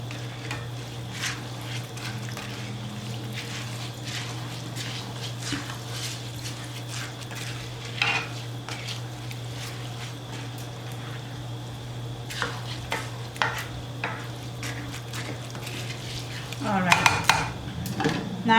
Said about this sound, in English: now we are going to give this a good mix and mix everything together